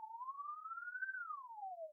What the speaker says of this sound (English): it's basically just a sine wave,